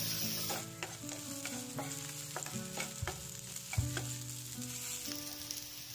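Garlic sizzling and frying in hot cooking oil in a heated pan, a steady crackling hiss with occasional stirring scrapes throughout, close and fairly loud, with no one talking.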